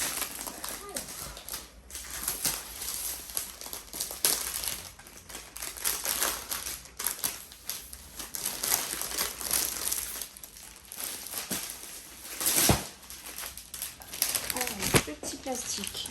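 Plastic wrapping crinkles and rustles in bursts of dry, crackly handling while an Oraloa kit is unboxed, loud and close with brief pauses between bouts.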